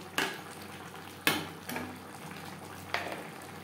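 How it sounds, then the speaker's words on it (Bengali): Bottle gourd being stirred with turmeric powder in a pan, heard as a few sharp scraping knocks of the utensil against the pan at irregular intervals over a soft steady background, with no talking. "লাউর সাথে হলুদের গুঁড়ো বেশ ভালো করে মিক্সড করে দেব"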